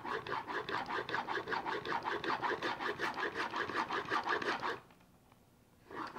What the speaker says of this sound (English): now we're polishing